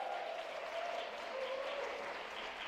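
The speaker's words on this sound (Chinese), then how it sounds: "我们也给我们这一群新世代的敬拜团一个热烈的掌声" Church congregation applauds the new generation worship team during a Sunday service, a steady, even wash of clapping heard from a distance, fairly faint, with no clear voices over it.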